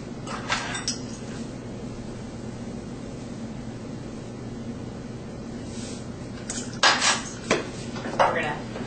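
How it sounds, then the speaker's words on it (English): Dry baking ingredients, including baking powder and salt, are blended in a bowl with soft scraping under a low background hum, ending in a cluster of sharper clinks and knocks of utensil against dish. "We're going to blend the dry ingredients."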